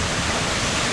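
A strong waterfall pours down a hillside in the rain, a dense, steady roar of rushing water that fills the moment without a break and with no voices.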